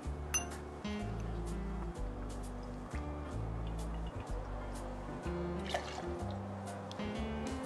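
Kahlua is poured into a mixing tin for an espresso martini behind a bar, with close liquid trickles and light clinks of glass and metal over a low, steady background hum.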